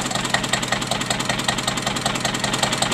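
Listeroid single-cylinder diesel engine fitted with an axial flux alternator, idling at around 630 RPM on vegetable oil, a loud close steady chugging with an even rapid knock and no voices over it.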